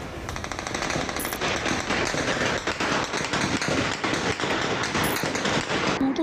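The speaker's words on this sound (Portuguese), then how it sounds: "Conforme a polícia avança, o tiroteio se intensifica." Heavy gunfire during a police operation in a favela hilltop, rapid bursts of shots crackling almost continuously, loud and sharp with dense overlapping reports and no pauses.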